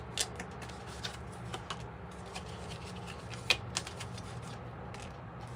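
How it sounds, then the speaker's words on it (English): Quiet, close riffling and soft snapping of a tarot or oracle card deck being shuffled, with occasional sharper clicks at an irregular rhythm and no talking. "I'm just going to do this because I have definitely shuffled this deck a lot today"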